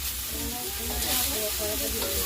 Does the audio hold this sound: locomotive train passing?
no